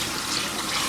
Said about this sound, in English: Why are we pouring cold water on it?